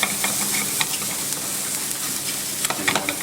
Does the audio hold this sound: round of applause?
no